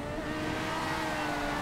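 Engine of an Ocelot R88 open-wheel Formula 1 car in GTA 5, a steady high-pitched revving drone holding at a constant level throughout, with no talk.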